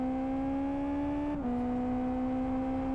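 A quick Super Formula single-seater race car in Live For Speed holds a steady, loud engine drone close up, with a brief drop in pitch as it shifts midway before settling into an even tone again.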